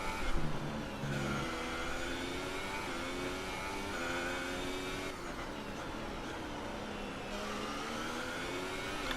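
A Haas Formula 1 car on a sunny day at Spa in Belgium, its engine screaming at full throttle with rising, sweeping high-pitched harmonics and brief shifts in pitch, loud and continuous without talk.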